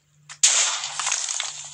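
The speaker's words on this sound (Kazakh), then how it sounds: "Бірінші өзін жарып көрейік." A small firecracker goes off up close: a faint pop, then a loud sharp burst that turns into a steady, bright crackling hiss for over a second, with no talk.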